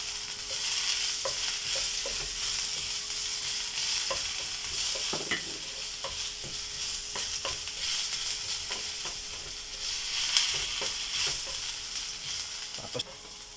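Ginger frying in a pan for ginataang tilapia, a quiet steady sizzle with frequent sharp scrapes and taps of stirring, heard up close without talk.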